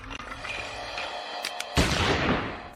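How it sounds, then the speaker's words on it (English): A cartoon gunshot in Adventure Time rings out as a sharp, loud blast followed by a noisy decaying burst, after a brief stretch of background sound. "we can definitely hear a gunshot"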